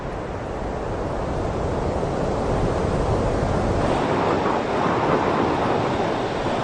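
Atlantic Ocean surf off Iceland's black sand coast roars as a continuous broad wash of breaking waves, steady and loud with a slight swell midway.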